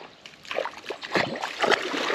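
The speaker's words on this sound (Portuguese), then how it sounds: "Nós estamos andando só por dentro da água." Footsteps sloshing through floodwater on a flooded residential street, a few heavy splashing strides close by, irregular and fairly loud with no talking.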